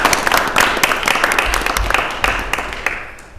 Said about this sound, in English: I just want to ask for a round of applause.